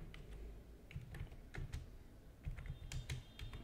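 Keystrokes tapping on a computer keyboard while entering data in Microsoft Access 2016, coming in short irregular bursts of clicks with pauses between them, close and fairly quiet against a low background hum, no voices.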